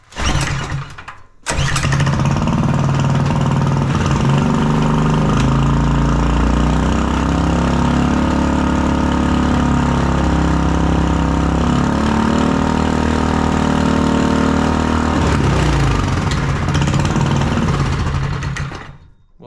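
A turbocharged Predator 212 small engine running on brake cleaner fires up after a brief crank and a pause, then runs loud and steady with a buzzing drone and slight rises in pitch before cutting off near the end.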